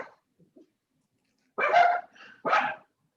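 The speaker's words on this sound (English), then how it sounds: "Ugh, dogs." Two short, fairly loud dog barks in quick succession, with a few faint soft sounds before them and no talking.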